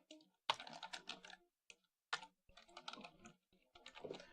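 Bursts of rapid keystrokes on a computer keyboard, clattering in clustered runs with short pauses between, close and fairly quiet, no voices.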